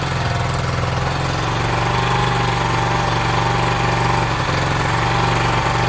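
A Sinnis SC125 scooter engine idles with the revs set too high, a steady close mechanical drone with even vibration and no pauses.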